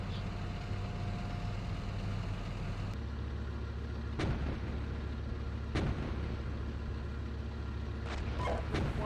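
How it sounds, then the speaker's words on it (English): Gunfire and artillery from the Steel Beasts Pro tank simulator: a steady low engine rumble runs throughout, broken by a few sharp, widely spaced bangs. "3-3. We're taking fire here."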